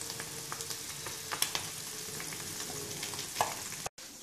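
An egg frying in a pan, a continuous close sizzle with scattered pops and crackles and a brief cut near the end, no voices.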